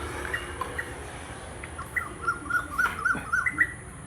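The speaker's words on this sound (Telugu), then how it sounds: "ఈ చల్లని వాతావరణానికి చెట్ల మీద పక్షులు చూడండి ఎంత ముద్దుగున్నాయో" Birds chirping in trees under cool, cloudy weather: a short run of small, evenly spaced high chirps, faint and distant over a quiet outdoor hiss, with no talk.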